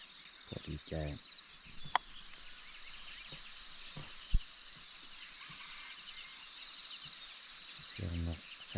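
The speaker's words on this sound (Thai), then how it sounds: "เสียงนกแซวแซว" Dense, steady chirping and trilling of birds at dawn on a rural farm, a continuous bright chorus that may include insects, broken by a few low thumps and brief nearby knocks.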